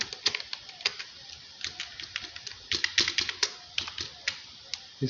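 Rapid, close clatter of computer keyboard keys typed in irregular bursts while entering data in Excel, no voices, with brief pauses between runs of keystrokes.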